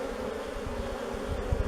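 Honeybees flying at the entrance of a wooden beehive, a steady low buzzing drone with a few louder passes near the end, continuous throughout.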